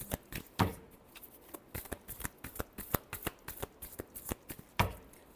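Tarot cards are shuffled by hand, giving a run of quick, crisp riffling taps and flutters at close range. A couple of stronger slaps break the pattern, and no one speaks.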